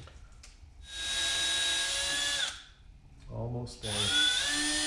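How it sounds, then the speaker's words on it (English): A drill bores a pilot hole in the dash of a 1972 Chevy C10, whining loudly in two bursts with a short pause between, and a voice speaks briefly in the gap. "first thing I'm going to do is drill a hole close to where I want that to start"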